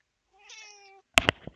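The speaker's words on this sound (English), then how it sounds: "she just meows for like 2 hours" A pet cat meows for food, a single drawn-out harmonic meow rising and holding for most of a second, then a sharp clatter of knocks and thumps close by, with no talking.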